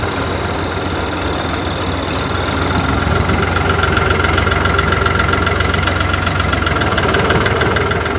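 A tractor engine chugs steadily and loudly nearby, its low knocking rhythm continuous and growing slightly stronger partway through.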